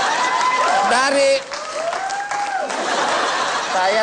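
A studio audience applauds on the Indonesian comedy TV show Opera Van Java, a diffuse patter of clapping under loud, animated voices talking over it.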